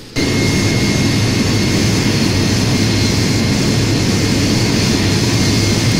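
Steady, loud roar of Boeing 727 jet engines in a flight simulator, with a high whine on top, starting abruptly and holding constant for several seconds.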